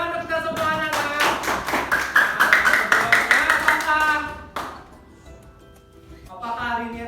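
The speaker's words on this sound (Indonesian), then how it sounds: "Oke, tepuk tangan untuk kita semuanya" Students in a classroom clap their hands together in quick, even beats for several seconds, loud and close, then the clapping stops and a teacher's voice is heard speaking.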